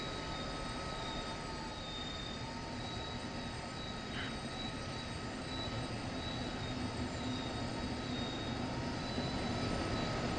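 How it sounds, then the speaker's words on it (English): A train departs on the Kinzigtalbahn line from Frankfurt to Fulda in Train Sim World 5, giving a continuous, even rumble of engine and wheels with faint steady tones, and no voices. "Release the brakes, apply the power, and take the train out."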